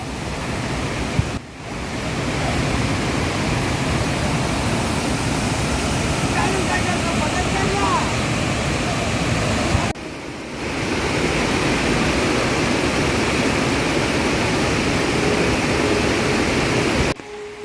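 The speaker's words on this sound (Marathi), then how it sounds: "एवढ्या जोरात पाऊस पडल्यामुळे पाण्याला फोर्स जास्त आहे" Rushing floodwater stream swollen by heavy monsoon rain on the Tungareshwar trek route, a loud continuous roar of churning water filling the whole stretch, with two brief dropouts, close and steady.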